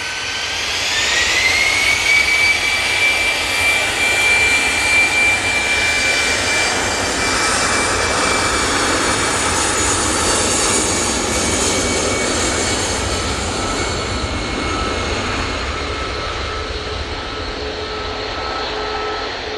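Jet airliner engines at Manchester Airport, a loud, steady roar with a rising whine that holds and slowly fades, continuous and close, with no voices.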